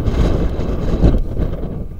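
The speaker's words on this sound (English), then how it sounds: "real windy today." Wind gusts buffet the microphone outdoors beside a barn, a loud, rough low rumble that swells and fades over a couple of seconds with no speech.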